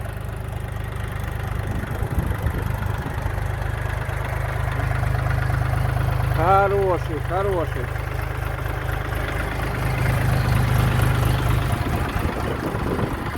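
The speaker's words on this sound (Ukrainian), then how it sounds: "Так от працює три циліндра, чотирьохтактний двигун." A small three-cylinder four-stroke engine on a DongFeng 244DG minitractor chugs steadily at very slow driving speed throughout, loud and close, with someone briefly speaking over it.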